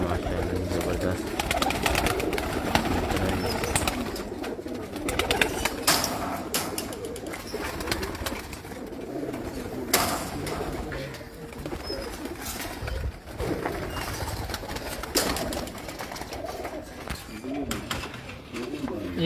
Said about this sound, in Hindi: अभी हमारे पास 100 से ऊपर कबूतर लगे हुए हैं।